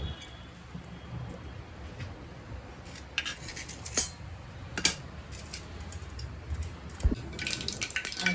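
Mustard seeds dropped into two spoons of hot oil for a brinjal and black-eyed pea kuzhambu crackle with sparse, sharp pops and clicks over a low, steady hiss of oil. The pops are faint and scattered, and no one speaks.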